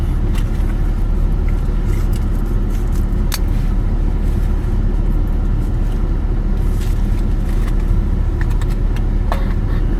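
A car drives off, its steady engine and road rumble loud and continuous throughout, with a few faint knocks and clicks on top.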